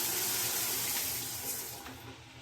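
Strong, high-pressure shower spray running in a cabin bathroom aboard the cruise ship Wonder of the Seas, a close, loud, steady hiss of water that eases slightly toward the end.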